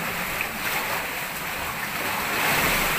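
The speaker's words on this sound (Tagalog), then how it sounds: "Lakas ng alon." Loud, steady roar of heavy surf crashing and washing continuously, with some wind buffeting the microphone.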